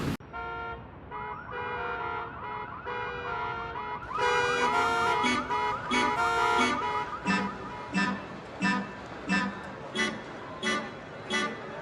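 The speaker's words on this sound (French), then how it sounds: "Un avertisseur sonore" Vehicle horn or alarm sounding in a repeating electronic pattern, loud and close, rising into rhythmic blasts that pulse steadily toward the end.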